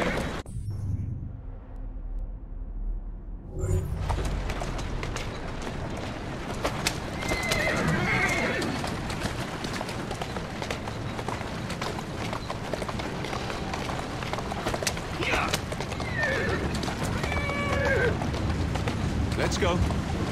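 In Assassin's Creed Syndicate, a horse whinnies loudly, then hooves clip-clop along over a continuous rushing background, with a few more neighs later; a voice speaks briefly.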